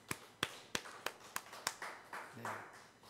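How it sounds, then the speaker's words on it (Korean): Church congregation during Sunday worship claps in a faint, steady run of about six distinct claps, then softens into scattered applause. "우리 그 하나님께 이 시간 영광의 박수로 함께"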